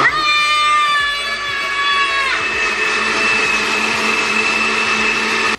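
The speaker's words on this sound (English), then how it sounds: "we're gonna go back to this little blender right here." A small kitchen blender runs with a steady, close, whining motor hum whose pitch shifts partway through, continuing alone with no talk.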